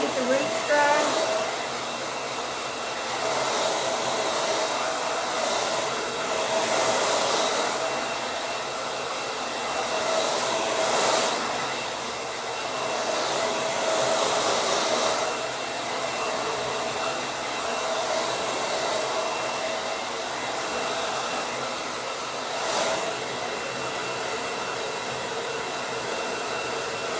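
Hair dryer blowing steadily at the roots of a pixie bob haircut, a loud constant whoosh that swells and dips slightly as it moves, alone without talk.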